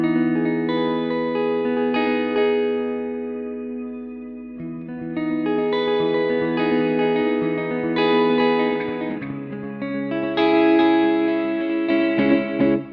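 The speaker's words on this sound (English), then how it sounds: "So now we can add the delay to it" An electric guitar runs through a NUX Duotime dual delay pedal, chords ringing out with trailing echoes that smear and layer into a sustained, shimmering wash.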